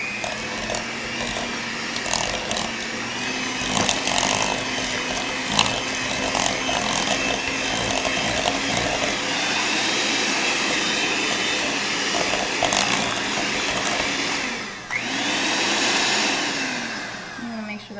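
An electric mixer beats sugar into cheesecake batter, giving a steady close whirring drone that rises and dips slightly as the mix thickens, with a brief pause near the end before the motor resumes.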